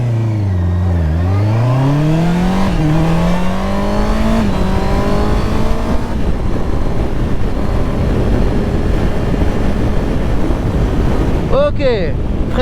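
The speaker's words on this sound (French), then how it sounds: "Alors je fais un petit départ arrêté, je vous mets le couple, la VMAX et le 0 à 100" A 2024 Honda CBR650R motorcycle launches from a standstill, its engine note climbing through several gears with rising pitch and brief dips at each shift, loud and close, then settling into steady wind-blown roar at speed.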